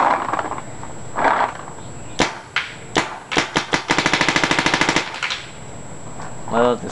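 A Planet Eclipse Ego8 paintball marker fitted with a Prophecy loader and air tank, set to 13.5 PSP mode, fires loud, close single shots and then a fast, evenly spaced rapid string of shots, followed by a brief voice.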